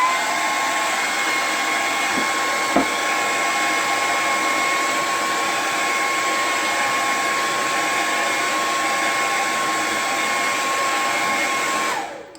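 A hair dryer blows steadily at close range to dry paint on a wooden sign, a loud, even whirring hum with a brief bump near the start that cuts off at the end.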